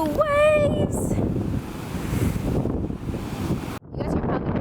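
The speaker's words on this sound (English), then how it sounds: "You guys can probably hear like the breeze while I'm recording and like that's the waves" Ocean waves washing onto a beach with breeze buffeting the microphone, a steady rushing roar with a brief whistle-like sound at the start and a short drop near the end.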